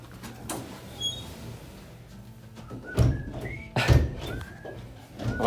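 A door inside a house is opened and shut with two soft, close thunks a second apart, along with faint squeaky whistling tones in a quiet room.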